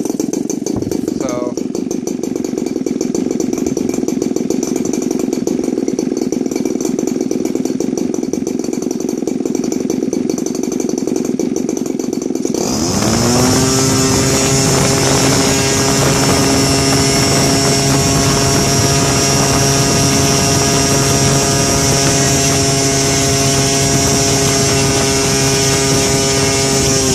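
A fairly new MVVS 120 twin model engine with CDI ignition running on gasoline: a quieter, lower idle for the first half, then a loud, steady high-RPM buzz with strong harmonics that holds to the end.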